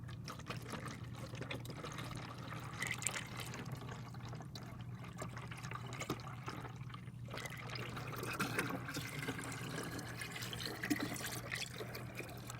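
Coolant antifreeze concentrate pours steadily into a bottle in a continuous, low trickling stream, faint and close, running the whole time with a constant hum underneath and no speech.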